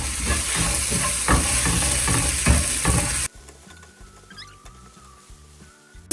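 Sautéed vegetables and baby spinach stirred in a hot pan, a dense close sizzle with scraping stir strokes for about three seconds, then dropping abruptly to a faint, quieter hiss.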